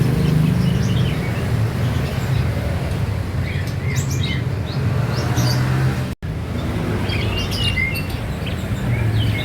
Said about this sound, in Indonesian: Ini adalah jenis burung parkit Australia.